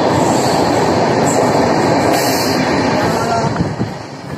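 Passenger train running through hilly country near Itarsi, its steady rumble and wheel clatter loud and continuous throughout, with faint squeal on top and no talk.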